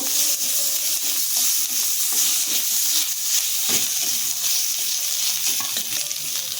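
Chopped onion with ginger and garlic frying in a pan for a chicken patty filling, giving a steady close sizzle with stirring scrapes throughout and no talking.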